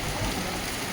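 Heavy, unseasonal rain pours steadily, a dense, even wash of drops that stays loud and close for the whole moment.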